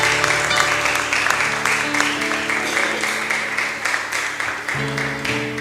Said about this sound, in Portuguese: dando para o Senhor um forte aplauso, uma oferta de palmas para ele